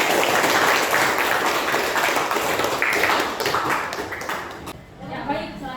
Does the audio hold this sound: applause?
yes